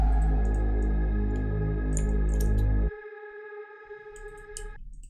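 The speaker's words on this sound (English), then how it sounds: "Let's add some atmospheric effects like this one" Atmospheric electronic sound effect for a STMPD style break: a heavy distorted drone that cuts off abruptly into thinner sustained tones with scattered clicks, then a low rumble, with no voices.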